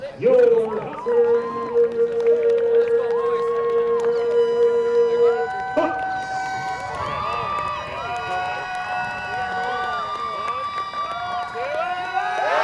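Crowd cheering and applause in an arena for the Humber Hawks, 2015 OCAA men's soccer gold medalists, rising beneath an announcer's amplified voice and sustained background music.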